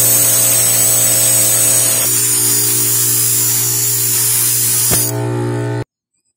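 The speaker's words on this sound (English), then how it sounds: "So we have to sharpen this part." A knife blade being sharpened with a power tool, a loud steady motor whine with a grinding hiss that holds for several seconds, shifts pitch slightly, then cuts off abruptly into silence.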